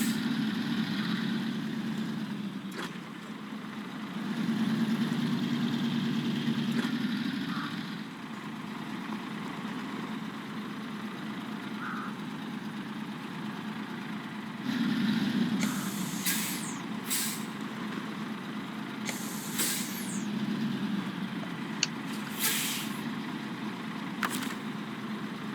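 A truck on highway tires idles outside a garage in the video game Snowrunner, a low steady engine drone with swelling revs, then several sharp hissing air brake releases near the end.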